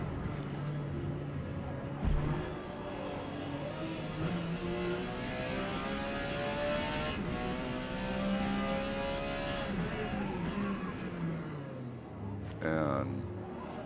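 A Porsche 956 race car in Forza Motorsport at Mid-Ohio screams through the gears, its engine rising and falling in pitch with upshifts and braking, while someone talks over it throughout.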